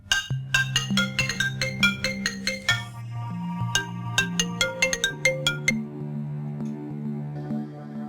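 A melodic phone ringtone chimes in a bright, repeating pattern of tones, loud and close, with no voices.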